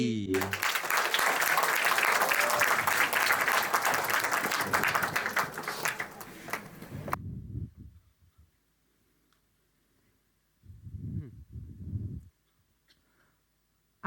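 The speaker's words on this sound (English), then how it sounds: "Let's give a big round of applause for Nathanael Febrianli" Audience applause for a speaker at a talk, loud steady clapping for about seven seconds that fades away, followed by near silence and a few brief low sounds.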